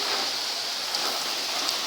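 Steady rain falls during a summer storm, a dense, even hiss of drops with a few slightly louder patters standing out, close and constant, with no voices.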